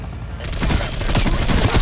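Rapid gunfire from the Bullfrog submachine gun in Call of Duty Black Ops Cold War, a dense burst of repeated shots that starts after a short quieter lead-in and keeps going loud and steady to the end.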